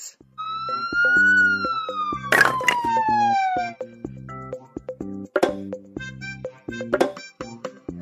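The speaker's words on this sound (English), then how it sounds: "Ambulance." A toy ambulance from a vehicle puzzle plays a loud electronic siren, a wailing tone that slides downward, then chirpy electronic beeps and a short tinny melody.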